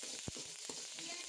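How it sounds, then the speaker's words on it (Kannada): Mustard seeds, onion and curry leaves fry in hot oil for tempering, giving a steady close sizzle with a few sharp crackles and stirring scrapes, no voices. "ಈಗ ಒಗ್ಗರಣೆಗೆ ಎಣ್ಣೆ, ಸಾಸಿವೆ, ಈರುಳ್ಳಿನೂ ಹಾಕಿ ಸ್ವಲ್ಪ ಕರಿಬೇವನ್ನು ಹಾಕಿ ಫ್ರೈ"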